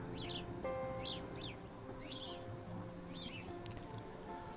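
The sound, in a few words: house sparrows chirping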